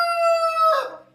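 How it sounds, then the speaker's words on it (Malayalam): A rooster crows once, close and loud: a single bright, drawn-out call that rises, holds, then breaks into a rougher tail and fades within about a second. "പൂവൻ കോഴി ഉണ്ട്."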